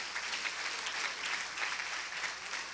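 A church congregation applauding during a Sunday sermon, a steady wash of many hands clapping that holds evenly throughout at moderate, somewhat distant volume.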